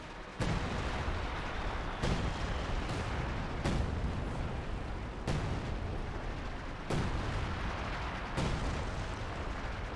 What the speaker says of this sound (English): Bit of artillery fire there.